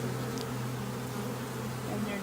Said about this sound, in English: there's all the bees. And they're just flying around.